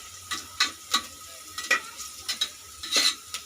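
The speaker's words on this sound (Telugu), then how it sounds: "ఎర్రగడ్డలు 2 తరిగి ఇట్లా రెడ్గా అయ్యేంత వరకు వేయించుకుంటున్నాను" Two chopped onions frying in a pan until reddish-brown, with a steady background sizzle and a series of sharp scraping stirs about every half second, close and fairly loud, with no voices.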